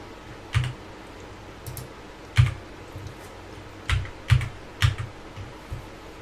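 Scattered keystrokes on a computer keyboard during data entry, about eight to ten distinct clacks arriving in irregular clusters, fairly close and clear with no talking.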